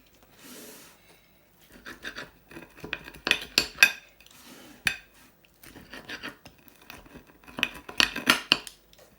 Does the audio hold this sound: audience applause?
no